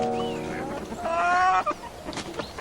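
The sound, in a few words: hens clucking in a small backyard flock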